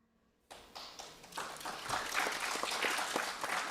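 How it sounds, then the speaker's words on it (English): After a brief quiet moment, an audience at a Seattle panel event breaks into applause that swells from a few scattered claps into fuller, sustained clapping. "We're just letting the applause happen here in Seattle"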